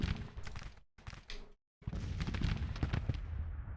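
Gunfire crackles in the Civil War strategy game Grand Tactician: The Civil War, as dense volleys of musketry pop and rattle in quick clusters, broken by two brief silences.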